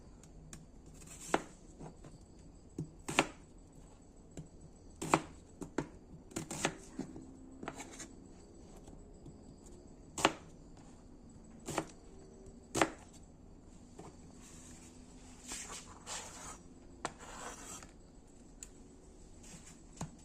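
Potatoes and carrots being chopped with a knife on a board for a potato and bone soup, giving irregular, sharp, close chops and taps scattered over a quiet background.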